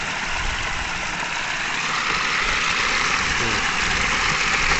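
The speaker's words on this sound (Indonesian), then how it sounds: "Tuh di hutan sana tuh mesinnya." A small engine drives a simple suction pump made from PVC pipe at an open-land tin mine, heard as a steady, droning rumble from some distance in a forest, constant throughout with no speech.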